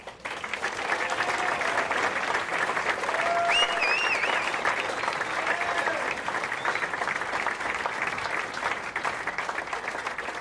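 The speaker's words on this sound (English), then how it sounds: "would you please give a loud and rowdy applause to this year's female recipient, Susan Aubin" An academic awards audience gives sustained applause for a recipient, a steady wash of many hands clapping for about ten seconds, with a few faint whistles and whoops over it.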